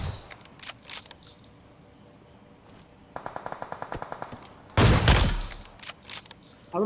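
Gunfire in a shooting video game, with scattered shots, a quick run of rapid evenly spaced bursts, then one loud, heavy sniper-like blast, all clear and without speech.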